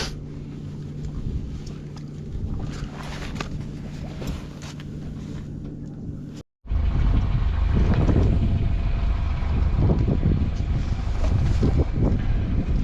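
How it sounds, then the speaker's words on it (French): A small sailboat motoring in almost no wind, its engine droning low and steady while slack sails flap, with airy wind noise on the microphone; a brief dropout splits the scene before a louder, rougher stretch. "on a remis le moteur, il y a quasiment plus de vent. Donc on a les voiles qui battent"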